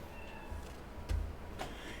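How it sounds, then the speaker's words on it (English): A cat meows faintly a couple of times in a video game, short thin cries over a low steady background hum. "if you listen there, we even have a kitty"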